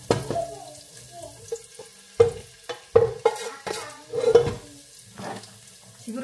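Onions and browned garlic fry in a pan for a home-cooked munggo dish. A soft sizzle runs throughout, broken by several scraping stirs and clatters of a utensil against the pan, close up and with no talking.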